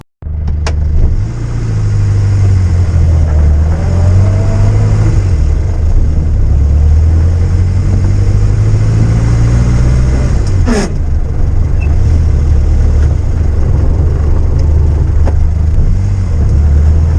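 Old car's engine running steadily as it is driven on the road, a loud, close low rumble that holds throughout with a single sharp knock midway.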